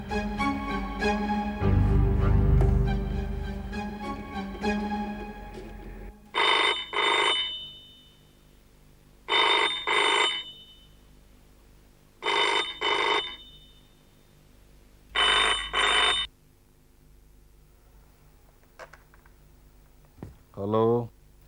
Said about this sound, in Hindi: तो मैं सिंह साहब को फोन कर दूं?